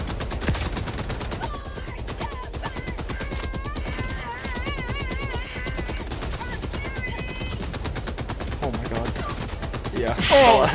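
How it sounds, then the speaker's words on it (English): Rapid bursts of Helldivers 2 gunfire rattle through a dense mix of game effects and music, with a voice talking over it and a louder blast near the end. "He walked into the gunfire."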